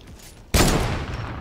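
Video game gunfire that bursts in suddenly after a quiet start: a loud, sharp volley followed by sustained rapid shots that continue to the end.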